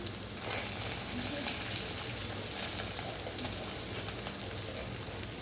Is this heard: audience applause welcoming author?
no